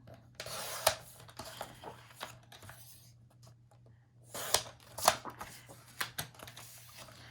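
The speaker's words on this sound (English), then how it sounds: "Take off the barcode and then cut each one individually." Scissors cutting individual paper sheets for scrapbook layouts; soft rustling and crisp snips up close and quiet, in two clusters separated by a lull, with paper shuffling and handling between cuts.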